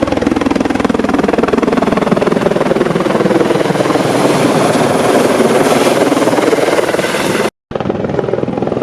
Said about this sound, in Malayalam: പ്രകമ്പനം കൊള്ളിച്ച ഒച്ചയോടെ പൊടിപാറിച്ച helicopter N R C T മൈതാനത്ത് പറന്നിറങ്ങിയത്